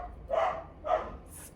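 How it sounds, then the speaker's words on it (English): A pet dog barks twice at passers-by walking or running past a house, two sharp, fairly close barks separated by a short pause, with no talking. "that's my dog who barks at any person walking or running by my house"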